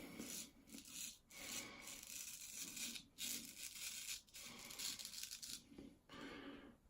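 A razor shaving stubble on the chin at a low angle with small strokes, a close, rasping scrape repeating in short strokes with brief pauses between them.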